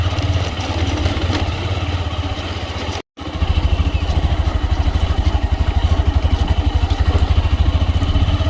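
A motorcycle engine labors on a rough forest road in the Uttarakhand Himalaya, a loud, close, steady pulsing drone that cuts out briefly and then resumes with a stronger rhythmic throb.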